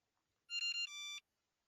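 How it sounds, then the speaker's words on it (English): Electronic keypad beeps on a pool car's pin pad sound as a short run of clean, high tones stepping down in pitch, the last held longer, alone against near silence. "You will hear four beeps in descending order 5 times."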